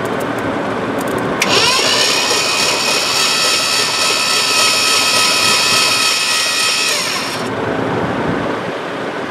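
A 1966 Ford Galaxie Fastback engine cranks hard for several seconds, loud and close, with a high whining starter tone as oil sprays out of the cylinders, then it stops.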